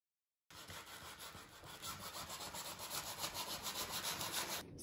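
Coarse 60-grit sandpaper rubbed over an old painted canvas, a steady rhythmic scratching that begins after a brief silence and grows slightly louder, close and alone.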